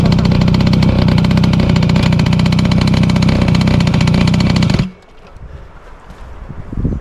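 A motorcycle engine runs loud and close, held at a steady rev while a beginner works the clutch, then it cuts off sharply, leaving quieter outdoor background.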